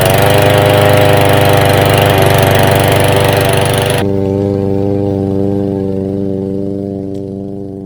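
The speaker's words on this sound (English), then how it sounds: "I'm gonna start the engine." A PowerSmart DB8621PR 170 cc gas 3-in-1 walk-behind mower engine runs loud and steady right up close after starting, then settles into a smoother idle that slowly fades.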